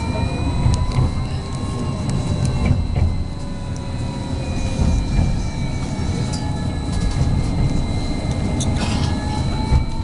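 A Lviv tram of the Elektron type rumbles steadily along with low rolling noise, faint metallic squeals and occasional clanks, continuous throughout at moderate loudness.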